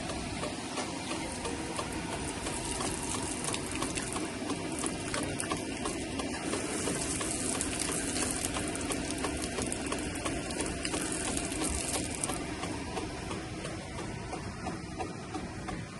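Steady, continuous rush of water flowing from the first filter outlet of a water purification system, with a faint mechanical hum underneath, unbroken for the whole stretch and with no voices.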